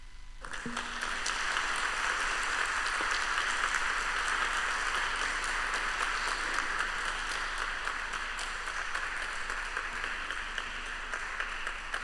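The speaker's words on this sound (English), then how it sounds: "I have just let the applause to go on so that you know that you did a great job" Sustained audience applause at a Gaza Tribunal session in Istanbul, a steady wash of many hands clapping, moderately distant and unbroken for the whole stretch, with no voices over it.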